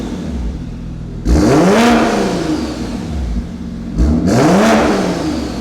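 A 650 hp big-turbo Toyota A90 Supra engine revving twice from idle, each a sharp rising blip that falls back, loud and close with no talk.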